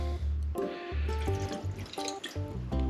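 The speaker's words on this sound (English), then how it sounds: "now to add our water" Water poured from a container into a skillet for making yopokki, a short splashing and dribbling pour heard close up in a kitchen.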